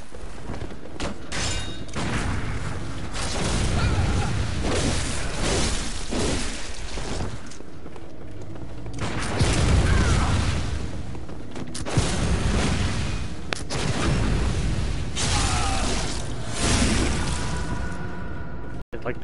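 Gatling cannon in the video game Bloodborne firing in repeated bursts with booming explosions and thuds, loud and close amid dense game combat noise.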